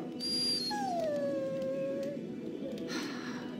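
A dog in the video game Dragon Age Origins lets out a drawn-out, falling whimper close up, then a shorter whine, over a steady low game ambience.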